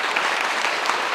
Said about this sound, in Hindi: तालियां पहले तो।